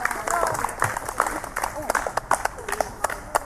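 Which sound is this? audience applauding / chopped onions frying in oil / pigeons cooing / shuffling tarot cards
audience applauding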